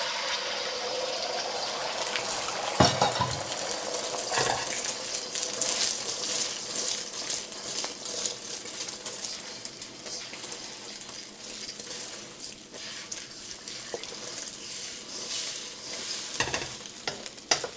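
Scrambled eggs fry in hot oil in a new wok, a steady close sizzle with bursts of scraping and stirring and a few sharper clatters, running without pause and with no talk.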